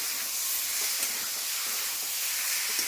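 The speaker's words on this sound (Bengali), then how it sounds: "এটা আলু সিদ্ধটা দিয়ে দিচ্ছি। এটা দিয়ে ভালো করে কষাবো।" Mixed vegetables and boiled potatoes sauté in a pan for a vegetarian lunch, giving a continuous bright sizzle and crackle, close and steady, with no one speaking.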